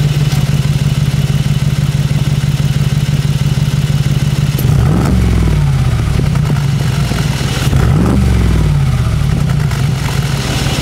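A Mercedes-AMG G63 engine idles with a deep, rough exhaust note, then revs sharply twice through its sport exhaust mode, each roar rising and falling back to a loud, rumbling idle.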